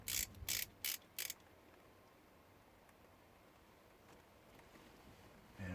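A screwdriver tightens the small screws of an awning light switch: four quick, close ratcheting clicks in a row, then near quiet.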